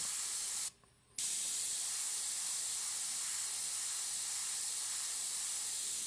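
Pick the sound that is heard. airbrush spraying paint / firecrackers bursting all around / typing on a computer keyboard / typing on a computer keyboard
airbrush spraying paint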